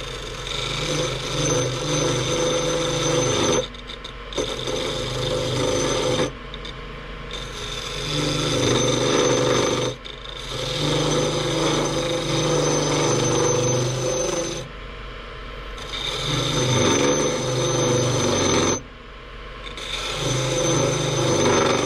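Skew chisel cutting rosewood on a spinning lathe, a steady droning rub and hiss in long passes separated by brief pauses, close and fairly loud throughout.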